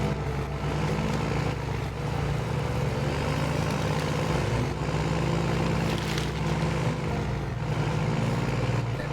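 Game vehicle driving through a village, a steady low engine drone with a constant rumble that holds evenly throughout without breaks.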